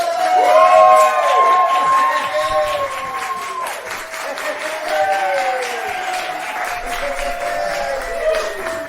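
Live podcast audience cheering, whooping and applauding loudly and continuously, with shouted voices rising over the crowd noise throughout.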